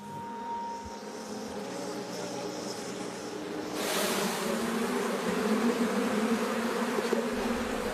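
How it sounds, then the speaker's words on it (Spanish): Honey bees buzz around beehives at an apiary in Arcadia in the Peloponnese, Greece. The dense, continuous droning swells louder halfway through as more bees pass close by, and no one speaks. "De hecho, siempre trabajamos con las abejas."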